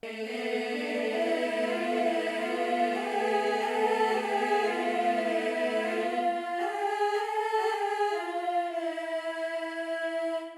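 Sustained choir-like vocal pad holding a rich, layered chord that shifts to a new harmony partway through, smooth and continuous with no pauses.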